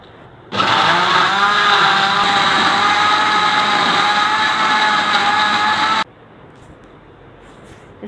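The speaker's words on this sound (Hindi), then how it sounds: "और ब्लेंडर को अब चला लेते हैं।" A blender blending a strawberry smoothie with ice cubes whirs loudly and steadily for about five seconds, its motor droning at an even pitch, then cuts off abruptly into quiet.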